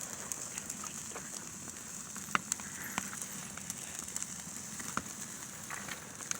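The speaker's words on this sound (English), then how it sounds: "no better place to be other than a bonfire when you can have that option" Bonfire burning outdoors on a winter night, with frequent sharp crackles and pops scattered irregularly over a soft steady hiss, close by and moderately quiet.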